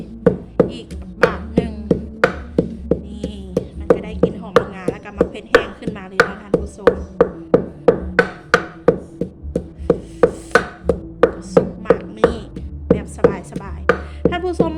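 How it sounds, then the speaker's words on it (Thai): Roasted ingredients and dried chili are pounded in a mortar for a jackfruit salad-style soup, a steady run of loud, close thumps repeating at a brisk even pace throughout. "เอามาใส่ลงไปกับมะเผ็ด แห้งหรือว่าเผ็ดผงที่พวกเขาอัน ตำก่อนหน้าเนาะ มาตำมังาให้แหลกดี"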